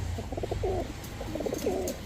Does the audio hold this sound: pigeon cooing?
yes